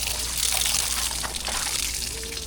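Water from a tap at a beach spot gushes steadily and fairly loudly as a continuous broadband hiss, with no talking over it.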